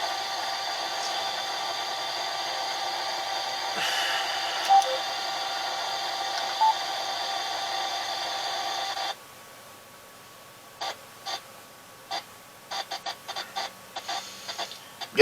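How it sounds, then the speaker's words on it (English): Steady interference hiss with faint tones comes through a Yaesu FTM 300DR VHF/UHF radio for about nine seconds, then cuts out, leaving a quieter background broken by scattered short clicks. "Got some noise there on that frequency generating somewhere around here."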